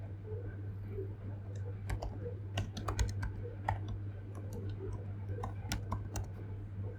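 Code being typed on a computer keyboard: irregular, crisp keystroke clicks spread throughout, close by, over a steady low electrical hum, with no one speaking.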